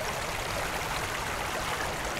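Water poured and splashed over a polyethylene gold-sluice mat being rinsed in a bucket with plenty of water, giving a steady, close rushing and gurgling sound.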